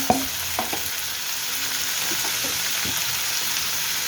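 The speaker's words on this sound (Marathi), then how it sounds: "कांदा एक मिनिटभर चांगला परतून द्यायचा ते पाहता टाकायचे टोमॅटो" Chopped onion and tomato sizzle in hot oil with mustard seeds for a cauliflower and peas vegetable dish. A steady frying hiss runs throughout, broken by a few sharp spoon scrapes and taps against the pan.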